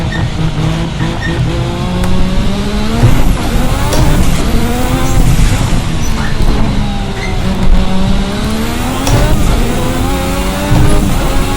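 Assetto Corsa's Formula RSS 1986 V6 turbo racer repeatedly revving up and down through gear changes, with rising and falling engine pitch, high whistling turbo and wastegate sweeps, and tire squeal as the car corners.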